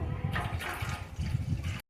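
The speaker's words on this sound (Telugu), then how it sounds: "ఇప్పుడు కొన్ని వాటర్ పోయాలి." Water is poured into a pot of milk while making coffee at home, a short, close, gushing stream that runs steadily for under two seconds and then cuts off.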